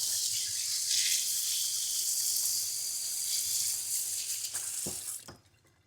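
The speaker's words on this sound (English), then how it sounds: "Let me take my tongs out and give it a nice whisking, like a proper" Thick heavy cream sauce stirred and whisked with tongs in a pan, a steady wet swishing and faint sizzle filling the clip, ending with a couple of sharp metal taps against the pan.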